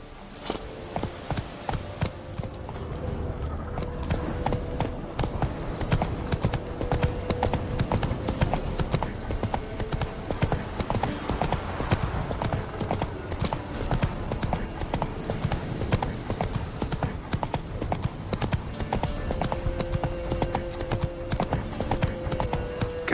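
Hooves clip-clop steadily and loudly from a horse in The Witcher 3, a continuous trotting rhythm up close, with a faint snort and ambient game tones underneath and no talking.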